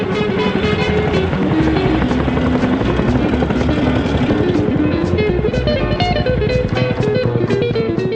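A Soviet helicopter flies close by, its rotor beating in a loud, steady, continuous chop with engine drone underneath and no pauses.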